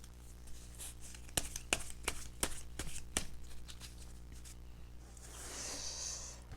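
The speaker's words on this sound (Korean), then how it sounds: "그럼 여기서 추가 카드 한번 뽑아볼까요?" Tarot cards are shuffled and drawn by hand in a quiet room, a series of crisp slaps and riffles up close, then a softer rustle.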